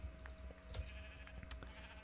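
Sheep bleat in a Minecraft Skyblock wool farm, a video game pen holding sheep of many colors. Short, scattered bleats come and go over a quiet game background, with no talking.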